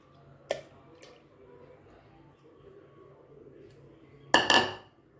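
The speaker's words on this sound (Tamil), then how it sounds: "ஒரு மிக்சி ஜாரில் ரெண்டு முட்டை எடுத்து வச்சுருக்கேன் அதை சேர்த்துக்கலாம்" Two eggs being added to a kitchen mixer jar: one brief clink of shell against the jar, a quiet stretch, then a louder, sharper clatter and splash near the end.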